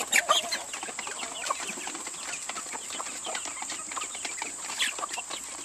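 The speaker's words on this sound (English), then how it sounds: "There's a nice rooster right here." Chickens cluck and chatter close by on a farm, a rooster among them, with scattered bird calls over a steady high hum.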